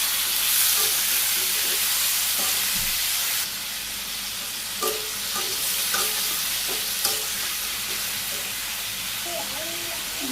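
Vegetables for dal, including papaya, stirred and frying in a pot in a village kitchen, a steady loud sizzle with scraping stir strokes and occasional clinks, with faint voices in the background.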